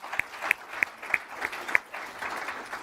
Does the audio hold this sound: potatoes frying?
no